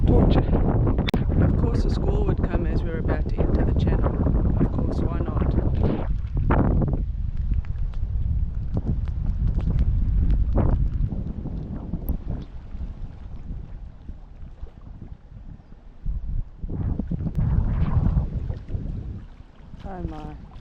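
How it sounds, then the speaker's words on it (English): A squall hits a sailboat as it enters a channel off Vanuatu in the South Pacific. Wind roars steadily and loudly over the microphone, easing partway through before gusting again, while people talk over it. "Of course a squall would come as we're about to enter the channel."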